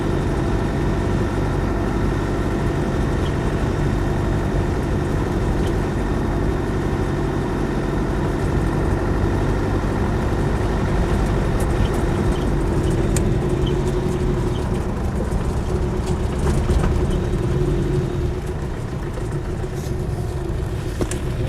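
A Land Rover 110 station wagon with a 300TDi diesel engine runs steadily, with a continuous low rumble and a few faint chirps in the background, no talking.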